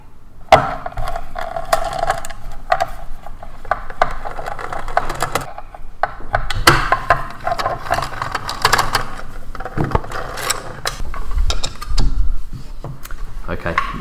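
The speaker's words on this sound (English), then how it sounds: "So to get to our belt, we then need to undo three more screws on the dust cover." Workshop handling noise of clicks, scrapes and tool knocks as screws are undone on the dust cover of a Lagler Flip edge sander, with someone talking throughout.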